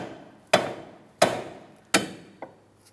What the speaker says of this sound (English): I'm going to tap on the knuckle with my rubber mallet